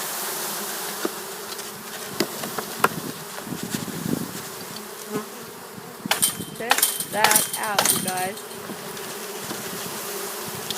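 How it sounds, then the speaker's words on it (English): Honey bees buzz in a constant drone as they are shaken into a hive, with clicks and knocks of handling and a voice speaking briefly over the swarm. "That's how you get bees in the hive."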